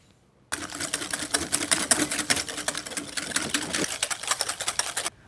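A wire whisk beats six egg yolks with 100 g of sugar in a bowl for sponge cake, a fast continuous rattling scrape running steadily and close up, with no talking.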